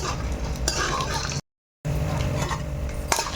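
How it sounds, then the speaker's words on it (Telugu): Peanuts and urad dal fry in a pan, a steady close sizzle with stirring and light scrapes against the metal. The sound breaks for a moment of silence, then the frying resumes. "ఇవ పల్లీలు ఇవి కొంచెం వేగాలి"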